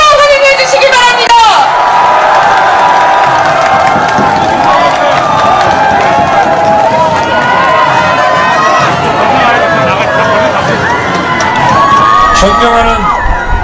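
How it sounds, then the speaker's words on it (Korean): A large crowd at a political rally for presidential candidate Yoon Suk-yeol in Chungju cheers and shouts loudly and continuously on a chilly day, a dense wall of voices with whoops rising above it. "여러분, 힘찬 박수로 환영해 주시기 바랍니다."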